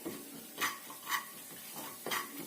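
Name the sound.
dry ginger powder being roasted in a pan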